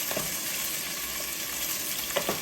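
Onion stir-fries in a pan for Japanese beef curry, a steady close sizzle with a few soft stirring scrapes and taps, no talking.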